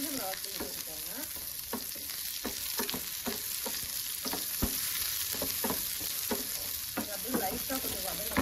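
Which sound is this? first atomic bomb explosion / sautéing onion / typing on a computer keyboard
sautéing onion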